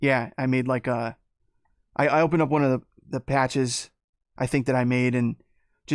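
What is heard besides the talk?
No everyday noises stand out.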